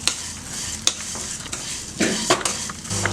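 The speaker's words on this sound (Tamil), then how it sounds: "நம்ம எடுத்து வச்சுருக்க அவளையும் இதில் போட்டு நல்லா பொரிச்சிக்கலாம்" Flattened rice (aval) fried in ghee for a milk payasam, giving a steady sizzle and crackle with several sharp scrapes and clinks of a spoon against the pan, close and fairly loud.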